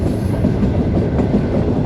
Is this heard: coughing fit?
no